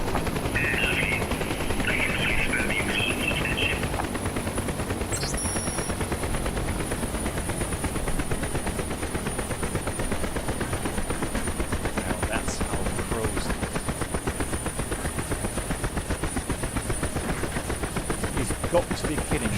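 A UH-1 Huey helicopter in the DCS flight simulator hovers with a continuous, rapid rotor chop and engine whine filling the whole stretch, fairly loud and steady, with a few faint beeps over it.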